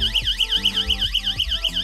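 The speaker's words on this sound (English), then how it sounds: "Now check out how noisy this siren is." A loud electronic water leak alarm siren wailing in rapid, repeating up-and-down sweeps, piercing and continuous, close by.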